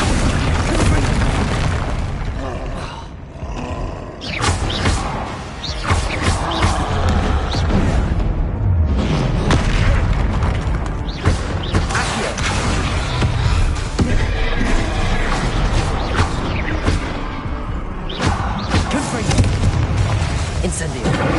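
Spell impacts and explosions in the video game Hogwarts Legacy form a dense, continuous wash of booming blasts, crackles and rumbles, loud and close throughout, with no clear gaps.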